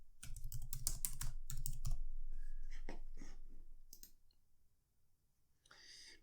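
A computer keyboard is typed on in quick bursts of close, crisp key clicks, a short pause between runs, then scattered lighter taps and a brief final flurry.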